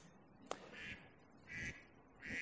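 A handheld duck-call toy gives three short nasal quacks, each a brief honking burst spaced about a second apart, fairly faint against quiet room tone.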